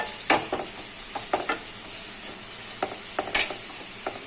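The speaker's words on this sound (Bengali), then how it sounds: "আর এখানে পেঁপে ভাজা হচ্ছে" Thin papaya slices frying in a pan, with a soft steady sizzle under sharp intermittent clatters of stirring at close range, and no talking.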